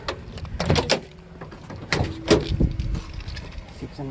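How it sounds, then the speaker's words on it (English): Drawers are pulled open inside a locksmith's work truck, making soft sliding thuds and rattles with a few bumps and knocks, at moderate level and close by. "I'm actually gonna open drawers."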